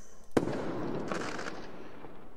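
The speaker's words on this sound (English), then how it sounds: "for the sound of the firework popping and making the sparkly noises" A firework sound effect for an Unreal Engine 4 fireworks display: one sharp pop followed by a soft, crackling, sparkling fizz that thins out over two seconds.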